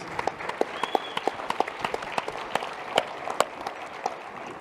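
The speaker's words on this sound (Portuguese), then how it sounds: "Um aplauso para o Lucas" A church-event audience claps for a speaker, a faint, sparse spattering of individual hand claps at a distance, irregular and thin rather than a full ovation.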